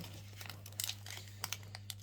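A Pokémon card booster pack is torn open by hand, giving faint, close crinkling of foil wrapper with a few sharper rips and crackles over a low steady hum.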